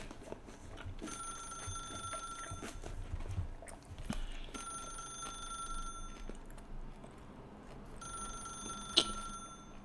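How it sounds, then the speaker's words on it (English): Three separate bursts of an insistent electronic telephone ring sound inside The Stanley Parable video game, each lasting a couple of seconds over a quiet, low background hum, with a faint click between them. "how long does this phone pissing ring for?"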